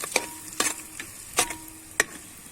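Jeera, onion, green chilies, clove and cinnamon fry in a pan while a spoon stirs in four sharp, evenly spaced scrapes over a low, steady sizzle; nobody speaks.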